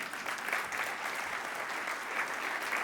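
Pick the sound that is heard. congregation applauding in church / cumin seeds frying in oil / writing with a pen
congregation applauding in church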